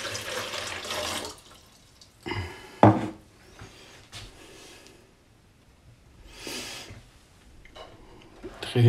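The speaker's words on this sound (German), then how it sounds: "Dann stellen wir die zweite Vase rein mit den Veränderungen, füllen das Wasser ein." Water being poured into a 3D-printed vase, with splashing and trickling bursts that come and go, close by and fairly quiet, with small knocks between pours.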